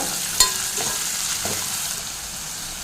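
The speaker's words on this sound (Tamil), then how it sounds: "நல்ல சோம்பு வெடிச்சதும் நல்ல மீடியம் சைஸ்ல 2 வெங்காயத்தை பொடியா நறுக்கி வச்சிருக்கேங்க அதை சேர்த்துக்கலாம் அதை சேர்த்து நல்லா வெங்காயத்தை ஒரு பாதி அளவுக்கு வதக்கினா போதுங்க" Finely chopped medium onions sauté with crackling fennel seeds in a hot pan, giving a steady, close sizzle with a few sharp stirring clicks and no talk over it.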